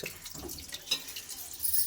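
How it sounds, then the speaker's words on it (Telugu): Water pours steadily into a pot of rice with a soft, splashy hiss, faint and close, with a few small clinks along the way. "వాటర్ పోసుకోవాలి."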